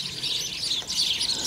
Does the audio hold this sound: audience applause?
no